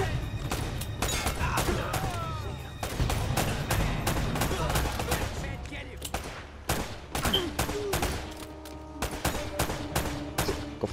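Rapid gunfire from the video game Uncharted: Drake's Fortune on PS4, with dense repeated shots and bursts throughout, loud and close, and a voice talking now and then under the shooting.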